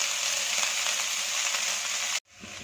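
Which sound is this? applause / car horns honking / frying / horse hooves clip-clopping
frying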